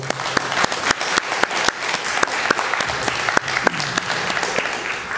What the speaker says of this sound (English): if we just give him another round of applause